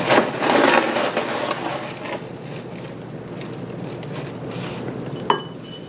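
Rice Krispies crushed by hand in a bowl for cowboy cookies: a close crackling, crunching burst at first that fades to softer rustling, with one sharp tap near the end.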